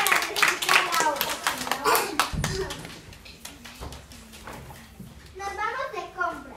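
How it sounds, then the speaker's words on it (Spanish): Audience applause at a children's holiday-course show in Bogotá, a burst of clapping through the opening seconds that fades, followed by children's voices speaking. "Démosles un fuerte aplauso."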